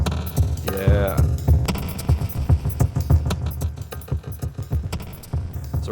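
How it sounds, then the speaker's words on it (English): Strange roomy, throbbing textures from a delay-based reverb patch built in Reaktor with raised feedback, dense rhythmic pulses and smeared echoes filling the whole stretch without speech. "So we're getting some very weird roomy noises, which is totally what we're going for."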